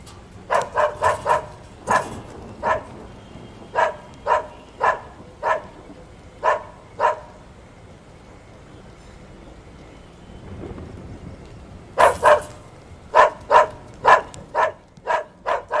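Dogs bark repeatedly at night in Mumbai, a series of sharp, evenly spaced barks at moderate distance, pausing briefly before another run of barks.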